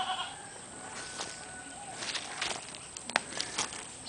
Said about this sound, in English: Some of goats.